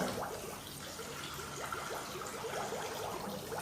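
Water running from a tap while a face is being washed, a faint, steady trickle with light splashing, heard alone.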